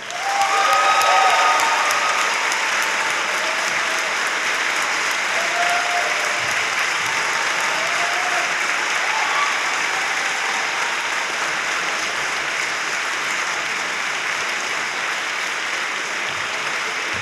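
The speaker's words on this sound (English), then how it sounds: "let's please give a huge round of applause for our 2011 Harvard Humanist of the Year" Sustained applause from an audience at Harvard greeting Seth MacFarlane as Humanist of the Year, loud and dense at first and then holding steady for many seconds, with faint cheers and voices mixed in.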